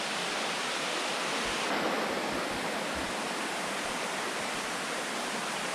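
Szepit waterfall on the Hylaty stream in the Bieszczady mountains, a steady broadband rush of falling water, loud and continuous throughout with no voices.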